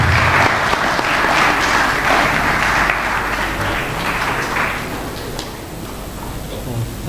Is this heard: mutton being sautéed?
no